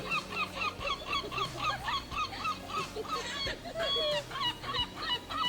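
A flock of gulls calling repeatedly, their rapid, laugh-like squawks overlapping in a steady, busy chorus with faint background rumble.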